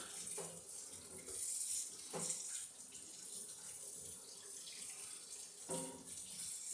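Water runs steadily from a tap into a sink, a soft continuous hiss with a few brief splashes and clunks along the way.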